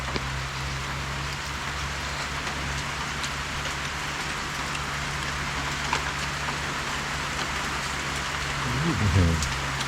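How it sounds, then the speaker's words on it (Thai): Steady rain patters continuously with a constant hiss, joined by a low hum, and a brief voice surfaces near the end. "คือจนฝนตกแล้ว"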